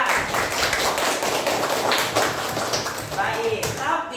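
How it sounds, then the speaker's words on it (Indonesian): Pupils in a classroom applaud their classmates, producing a dense, busy patter of hand claps close by, mixed with voices throughout. "Boleh tepuk tangan untuk teman kalian."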